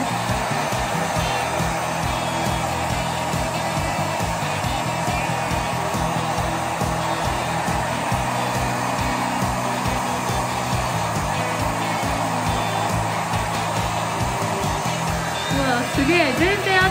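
A ReFa hair dryer runs in moist mode while drying hair, a steady close whooshing roar of air that holds constant for the whole stretch, with people talking quietly over it.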